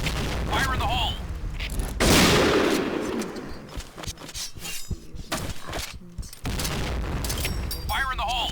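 Grenades and gunfire in the Point Blank shooter game: repeated loud booms and rattling bursts of shots, a big blast near two seconds, with a voice calling out over the battle.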